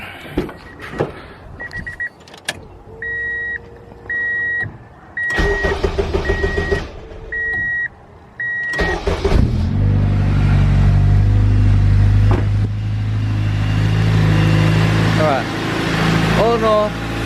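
A project car's engine turns over after a few electronic chime beeps, then runs with a loud, steady idle and an uneven rumble, close up, with no talk over it.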